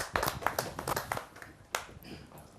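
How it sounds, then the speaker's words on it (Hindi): A few scattered hand claps, then a lone clap, from an audience at a Hindi kavi sammelan welcoming the poet and lyricist Dr. Anil Vajpayee; brief, sparse and moderately close, trailing off into quiet. "जोरदार तालियों के साथ हम उनका स्वागत करें।"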